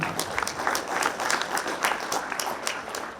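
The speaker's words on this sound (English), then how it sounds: "another round of applause for Simon." A crowd at a baseball first-pitch dinner applauds steadily, many hands clapping in a dense, continuous patter that holds evenly throughout.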